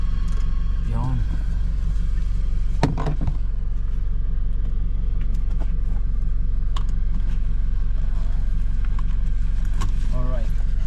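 A car being driven into a spot and parked, heard as a steady low engine rumble with a few sharp knocks and brief bursts of voices in the background.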